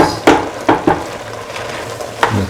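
Potato, mung bean and rice mixture stirred in a pan, with a few distinct scraping and clinking strokes spaced irregularly over a soft sizzling background, close and fairly loud.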